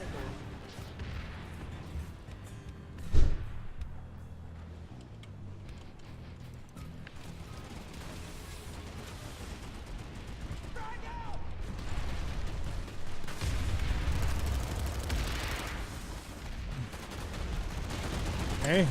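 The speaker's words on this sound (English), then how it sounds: "Fire another one of my magic mobile missiles." Missile launches and gunfire in the Planetside 2 video game, a dense rumbling battle din with one sharp, loud blast early on and a heavier roar swelling toward the end.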